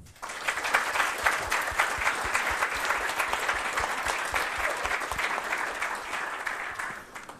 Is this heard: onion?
no